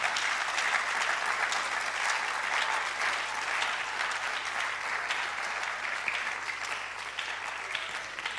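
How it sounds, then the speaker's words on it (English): An audience at a medical college public lecture breaks into loud, dense applause that holds steadily for over eight seconds, a broad wash of clapping with no talk over it. "Let's give them a big round of applause."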